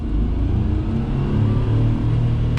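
A Daihatsu Hijet kei truck pulls away in short first gear, its small engine revving hard and climbing in a loud, close, steady drone with no talking.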